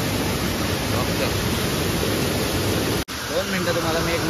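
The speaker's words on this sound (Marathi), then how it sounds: "आपल्या पाठीमागं धबधबा आहे" A waterfall near a crab-catching spot gives a steady, loud wash of broadband rushing water, broken by one brief dropout, with faint talk briefly on top afterward.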